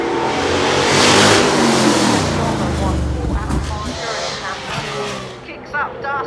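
A racing car at the Goodwood Festival of Speed roars past near a commentary box, its engine rising and swelling as it accelerates by and then fading into the distance, with a commentator talking over it.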